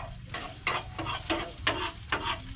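Onion tossed in a frying pan gives a soft, steady sizzle with about five rhythmic stirring scrapes, quiet and close.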